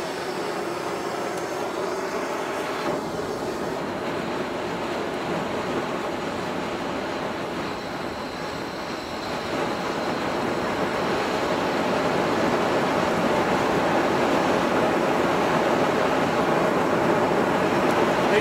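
A homemade gas ribbon burner roars during a test firing, a loud, dense, continuous rushing roar that swells slightly stronger toward the end, with no speech.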